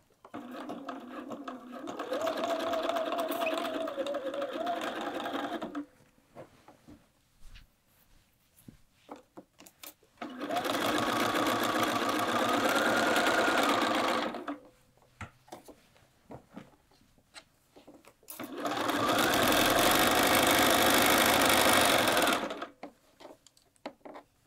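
A sewing machine stitches the side seams of a quilted Tamarack jacket in three loud, steady bursts of several seconds each. Quiet pauses with small handling noises separate the bursts.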